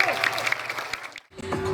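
A short burst of audience applause greets the Bewafa Bollywood teen dance group at a Palembang performance, a dense clatter of hands that cuts off abruptly before a voice begins speaking.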